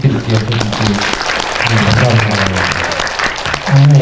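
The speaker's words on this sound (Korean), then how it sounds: "정말 박수 한번 부탁드릴게요." Audience applause at an indie film anniversary screening event, a dense steady clatter of clapping hands lasting throughout, with a few voices and cheers mixed in and a brief swell near the end.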